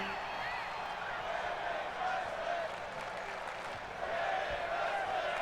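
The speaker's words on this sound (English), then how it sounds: "Crowd chanting women's wrestling." A wrestling crowd at a live women's wrestling show chants and cheers in a sustained roar that fills the arena, with a commentator's voice faintly mixed in.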